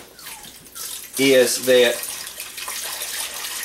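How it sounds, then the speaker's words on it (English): Contaminated water poured from a container into a smaller pot in two short splashing bursts as part of a survival water still setup, with someone speaking before and after. "Then you have the smaller pot that's going to hold the contaminated water that I'm about to pour in here in just a second."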